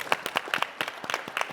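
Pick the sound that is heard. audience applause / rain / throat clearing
audience applause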